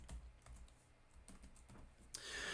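Code being typed on a computer keyboard, a quiet run of irregular soft key clicks ending in a brief louder burst, heard without talk.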